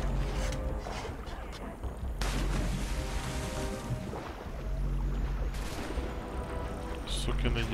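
Gunfire in the video game Assassin's Creed III, with volleys of shots cracking over a dense, noisy battle soundscape that stays busy and loud throughout.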